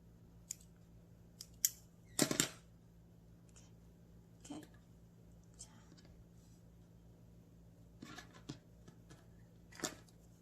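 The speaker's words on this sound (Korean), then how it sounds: "가위가 좀 끝이 뾰족한 게 있으면 잘 잘라줄 수 있어요" Small pointed-tip scissors snip through soft clay petals for a clay cosmos or chrysanthemum craft, giving a few sharp close cuts, one louder cluster midway, amid quiet handling noises and a low steady hum.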